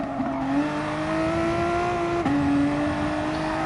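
Race car in GT Sport lapping Bathurst, a steady loud engine drone with pitch rising through a gear then dropping at a shift, continuous and close with no talk.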